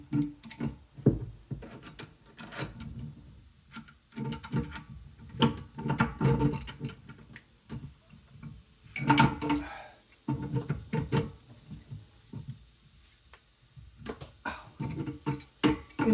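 Metallic clanks and ratcheting clicks from a heavy wrench threading a well pump pipe at an off-grid cabin, irregular bursts of turning and knocking, close and moderately quiet.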